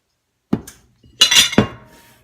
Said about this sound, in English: And I'm going to put a lid on.